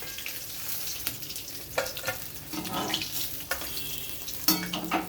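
Remaining pieces of fish frying in a pan, a close crackling sizzle of hot oil punctuated by sharp spatters and stirring clatters at irregular intervals.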